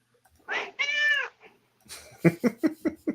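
A pet cat that has just been fed lets out a long, loud, drawn-out meow close by, then a quick series of shorter, rhythmic chirping calls.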